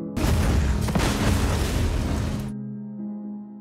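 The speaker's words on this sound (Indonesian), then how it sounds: "Lalu Dodge menyalakan api yang sudah dia siapkan untuk meledakkan pabrik ini, yang membuat Nixon terpaksa berlari" A loud, sustained factory explosion roars across the whole range for a couple of seconds, then cuts off abruptly, leaving a low tonal hum.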